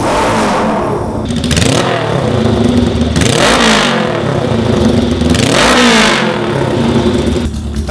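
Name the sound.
Honda CL77 305cc scrambler engine revving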